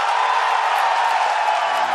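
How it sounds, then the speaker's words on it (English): An E3 2015 audience cheers and applauds an Xbox announcement, producing a dense, steady roar of clapping and whoops throughout the clip. "the crowd exploded with applause"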